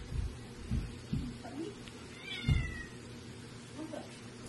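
A cat meows a few times, close by, while someone plays with it roughly as one would with a dog; low thumps and handling noise sit under the calls.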